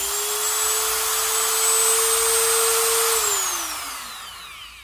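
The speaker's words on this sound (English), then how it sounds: "the Dremel 3000. It's a nice little rotary tool" A Dremel 3000 rotary tool runs at its top speed setting with a steady, high-pitched whine, close and loud, then the motor is switched off and the pitch slides down as it spins to a stop.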